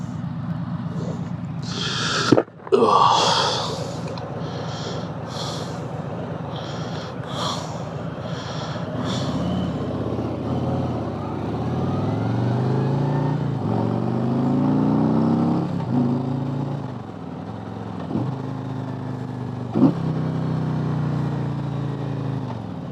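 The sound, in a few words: Harley-Davidson Road Glide Limited motorcycle riding, 114 engine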